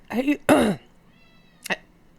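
Domestic cat meows indoors, two close drawn-out cries followed by a shorter one after a pause, with a faint electronic hum in the background.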